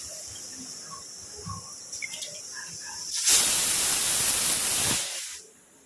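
Faint background clatter, then a loud rushing hiss from a pressure cooker whistle blasts for nearly two seconds before cutting off, while chickpeas cook.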